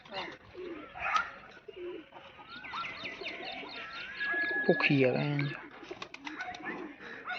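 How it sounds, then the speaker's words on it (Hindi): Pigeons cooing on a rooftop where they drink water, soft repeated throaty coos up close, with someone talking over them now and then. "छत पे पानी शानी पी रहे हैं कबूतर"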